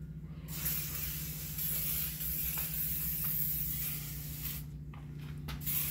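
A steady, close hiss of silicone spray from an aerosol can runs almost unbroken for several seconds over a low background hum.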